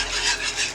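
A spoon stirs black pepper into a creamy Cajun shrimp Alfredo sauce in a pan, producing soft rhythmic swishing and scraping strokes close by.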